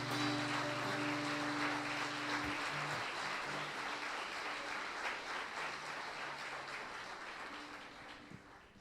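A church congregation applauds in a steady, dense wash of clapping that fills the whole stretch, with faint sustained organ or keyboard tones underneath early on.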